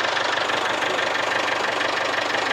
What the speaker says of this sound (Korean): 잠깐 공회전 좀 해놔봐. 오일 순환 좀 되게.